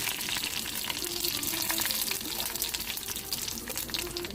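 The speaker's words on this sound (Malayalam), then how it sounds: "കടുക് പൊട്ടിക്കഴിഞ്ഞതിന് ശേഷം" Mustard seeds splutter in hot coconut oil in a pan with green chillies, a soft, continuous crackle and sizzle with scattered tiny pops, heard close and fairly quiet.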